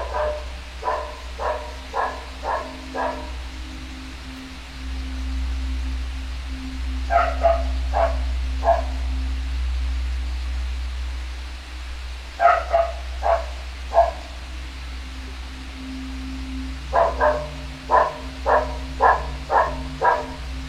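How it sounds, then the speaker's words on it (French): Recorded dog barking played back through a speaker, four bursts of several quick barks each, separated by pauses, over a steady low hum. "Et je vais lancer des aboiements de chiens."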